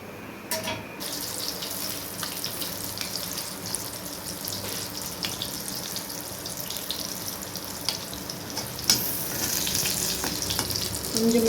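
Potato bajji frying in hot oil, a steady broadband sizzle with watery crackle running throughout, fairly close and continuous, getting a little brighter and louder near the end.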